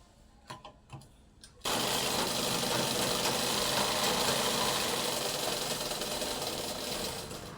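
A sewing machine runs in one steady, loud burst, stitching a pinned, gathered long frock after a few brief taps and handling noises at the start.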